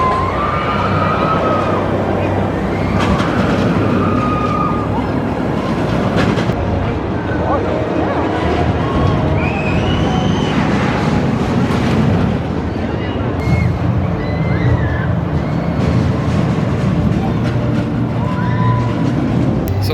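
Mindbender roller coaster at Six Flags Over Georgia, a continuous loud rattling clatter of coaster trains running on track with rumbling and screeching wheel noise, mixed with distant crowd chatter and screams around the ride.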